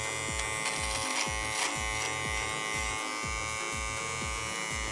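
Electric hair clippers buzz steadily and close up while trimming a faux fringe, the hum pulsing in a regular rhythm as the blades pass through hair, with no talking.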